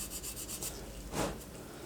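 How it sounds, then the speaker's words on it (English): Sanding on a resin kit body of a Mazda RX-7 Veilside scale model car, heard as soft, close rasping strokes with a brief louder scrub near the middle, quiet and with no talking. "So I'm going to get to kind of sanding this up a bit here"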